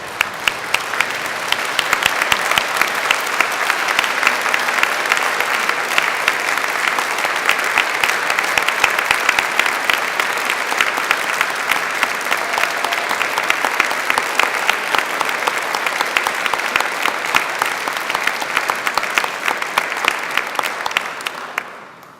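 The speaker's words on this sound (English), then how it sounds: "I'd like you to applaud your family and thank them for how they've supported you" Hall full of graduates at an Edinburgh university degree ceremony applauding their families, dense, loud, continuous clapping sustained for over twenty seconds before tapering off abruptly at the end.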